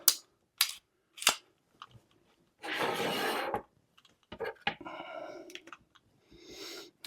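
A Colt 1911 Competition Blue Titanium .45 ACP pistol is dry-fired, giving a few sharp, isolated metallic clicks spaced about half a second apart, followed by a sustained rustling scrape and scattered softer clicks and handling noises.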